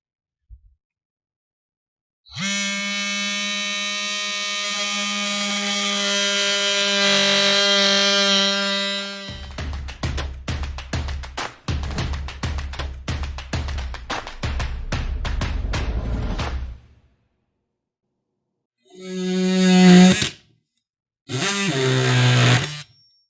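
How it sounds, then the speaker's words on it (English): Oscillating multi-tool cutting into a catamaran's electric outboard: a loud, steady high-pitched buzz that shifts into a rougher rattling cut, then stops, followed by two short bursts of the tool, close up with no talking. "We'll give a multi-tool a try first."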